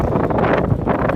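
Strong blizzard wind in Brooklyn during the 2016 storm, a loud, continuous rumbling gust that batters the microphone for about a second with no voices.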